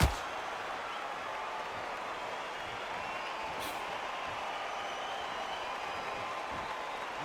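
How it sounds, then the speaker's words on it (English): A boxing arena crowd in the video game Undisputed keeps up a steady, even roar of murmur and cheering throughout, with no breaks or swells. "Crowd here cannot wait."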